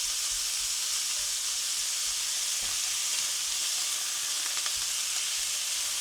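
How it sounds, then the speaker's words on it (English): Minced meat, for Thai pad kra pao, sizzles steadily in a hot frying pan with a constant bright hiss and a few faint scrapes of stirring. "Plenty of sizzle on that."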